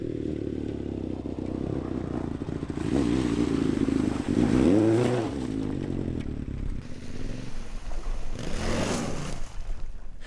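A motorcycle with rough studded bolts on its wheels riding on a frozen lake among ice fishermen, its engine growling and rising in pitch as it passes nearby, with scraping clatter over the ice.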